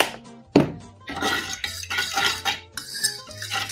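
Cinnamon and sugar are whisked into French toast batter in a bowl, with a sharp utensil clink near the start followed by steady scraping and clattering strokes against the bowl sides, close and moderately loud.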